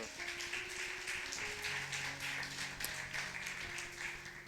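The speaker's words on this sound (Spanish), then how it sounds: "ahora van a aplaudir para el Señor" Church congregation in Bolivia clapping together for the Lord during a sermon, a dense steady patter of many hands filling the room, with a sustained musical tone underneath.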